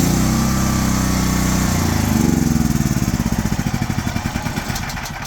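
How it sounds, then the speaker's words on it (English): A Predator 13000-watt generator running on propane cranks over and catches, its rough starting churn settling into a steady, pulsing engine chug, loud and close with no talk. "Press it 2 times and it'll start."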